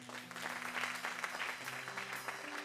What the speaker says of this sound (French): Acclame Jésus pour ta vie